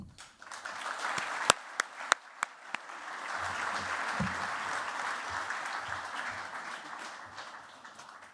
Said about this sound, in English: let's give a big round of applause for Jesse Norman